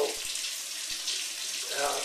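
Hot water runs steadily from a tap as yogurt cartons are rinsed, a continuous close hiss and splash, with faint talk underneath.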